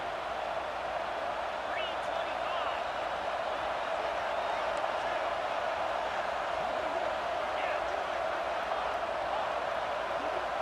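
Steady roar of a stadium crowd in College Football 26 during a late-game offensive possession, a dense wash of noise holding at constant loudness throughout with no break.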